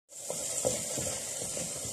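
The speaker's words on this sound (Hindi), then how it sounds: "पर मैं इसमें लहसुन अदरक की पेस्ट डाल दूँगी और इसे भी अच्छी तरह से भून लूँगी" Garlic ginger paste fries in a pan with a steady, close sizzling hiss and a few soft stirring knocks underneath.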